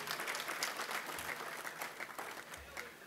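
Audience applause at a school-community gathering, a full, steady wash of many hands clapping at once, loud and sustained without pause, with a couple of low thumps underneath.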